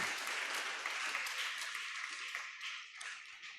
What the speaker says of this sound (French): Acclamons pour le frère